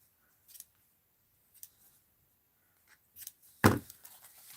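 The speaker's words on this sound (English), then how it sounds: "let's cut the loops" Scissors snip through loops of craft material for snowglobe clusters: a few short, sharp, close cuts spaced apart over near silence, with a louder, longer final cut near the end.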